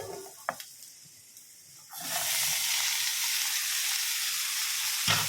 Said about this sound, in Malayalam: ഇതൊന്ന് വഴണ്ടി വന്നിട്ട് ചേമ്പും താള ഇതിലേക്ക് ഇട്ട് വഴറ്റുകയാണ് ചെയ്യുന്നത്